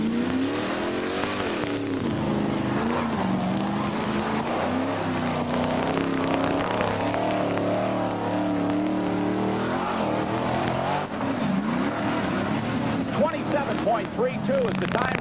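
A 1989 Chevrolet C3500 monster truck engine roars loud and continuous at a mud racing event, revving and surging throughout with an announcer talking over it.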